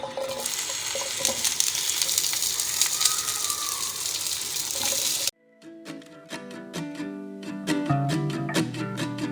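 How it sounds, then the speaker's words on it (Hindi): Okra hits hot olive oil in a pan with a steady, loud sizzle of frying for about five seconds, then the sound gives way abruptly to music. "थोड़ा सा ऑलिव ऑयल डालने, गरम हो गए। अब इसमें हम भिंडी ऐड कर देंगे।"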